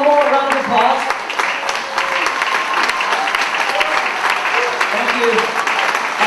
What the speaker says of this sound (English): So let's give all one more round of applause.